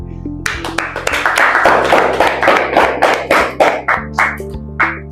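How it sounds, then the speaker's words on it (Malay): Classroom applause for a top-scoring student: a burst of many hands clapping, dense at first and then thinning into a few scattered, separate claps toward the end. "kita ucapkan tahniah dan berikan tepukan"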